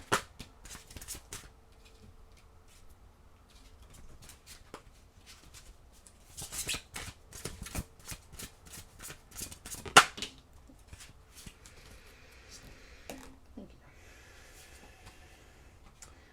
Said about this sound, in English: let me get your oracle card so I can get you out of here